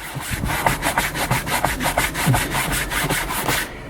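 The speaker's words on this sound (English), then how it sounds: "So I'm going to scrub. I've sprayed my super degreaser." A brush scrubs a Cadillac Escalade sun visor sprayed with degreaser in steady back-and-forth strokes, about a dozen rhythmic, rasping rubs, loud and close, with no talking.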